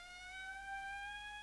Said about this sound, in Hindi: वो किसी एम्बुलेंस का सायरन था।